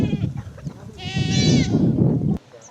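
A goat being milked by girls in Samburu County bleats once, loudly and up close, a wavering, drawn-out cry over low rumbling background noise.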